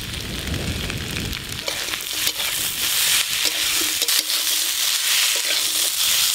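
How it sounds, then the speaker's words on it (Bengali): Crab being stir-fried with spices and Malabar spinach in a hot pan gives a loud, steady sizzle with scraping stirs and occasional clatter, heard close with no one talking. "কাঁকড়ার সাথে মশলা আর পুঁই শাক বেশ ভালো করে একসঙ্গে কষে নিয়েছি"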